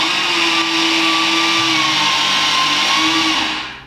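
A Bosch GBH 3-28 DRE rotary hammer drill for concrete runs continuously at close range, a loud, steady motor whine that holds for several seconds before spinning down at the end.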